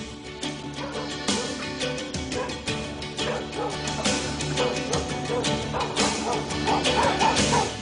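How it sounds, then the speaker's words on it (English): Several dogs bark and yip in a busy, overlapping chorus, some whimpering mixed in, loud and continuous under a film drama's score. "Dogs."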